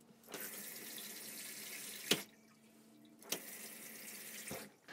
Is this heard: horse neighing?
no